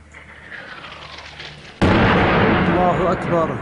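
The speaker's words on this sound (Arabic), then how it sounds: "قصف عشوائي على حي جود الشياح." Artillery shelling strikes the Joret Shayyah neighbourhood of Homs in 2012: after a quiet stretch with voices, a sudden heavy blast erupts and its loud rumbling roar lingers to the end.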